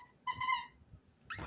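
A dog gives a single high, tonal whimper with harmonic overtones, close and fairly loud, followed by a shorter whine rising at the end, over quiet room background.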